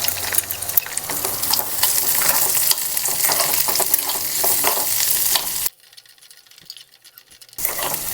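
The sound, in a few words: chopped onions frying in a pan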